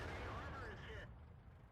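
An AMX 50B tank fires its gun in a tank video game, a short booming shot that fades quickly under a continuous low engine rumble.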